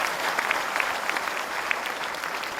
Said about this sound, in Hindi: आप इन शायरों के लिए तालियां बजाएं और एक बार अपने स्वागत में भी तालियां बजाएं।